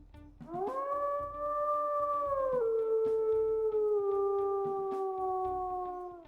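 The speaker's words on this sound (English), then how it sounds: "we'll also go ahead and listen to his howls here" A single long, smooth wolf howl from the game WolfQuest rises, holds steady, then dips slightly and fades, clear and alone against quiet.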